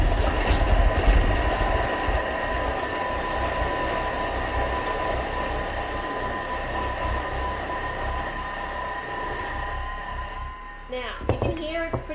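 A Thermomix mincing chicken at speed 5, giving a loud continuous grinding whir close by that holds steady for most of its length before cutting off, with a voice speaking briefly at the end.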